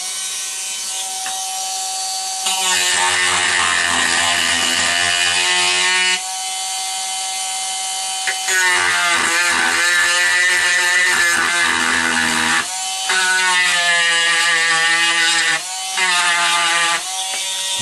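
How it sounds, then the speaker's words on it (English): A Dremel rotary tool grinds inside a frame, its high whine coming in sustained bursts with brief pauses and shifts in pitch as it bites into the material, close and loud with no talking. "So I'm going to continue with my Dremel."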